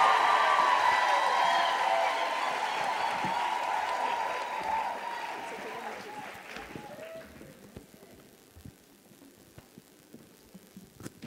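An audience claps for a panelist at a women's health and wellness event, the applause strong at first with a low hum underneath, then thinning and fading into a few scattered claps.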